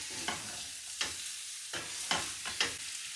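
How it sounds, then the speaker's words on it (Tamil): Ginger and garlic being sautéed and stirred in hot oil for chicken biryani, heard as a soft, close sizzle with about five scraping stirs of a spoon in the pan. "அஞ்சு நிமிஷம் கைவிடாமல் இப்படி பிரட்டிக்கொண்டே இருக்கிறேன்."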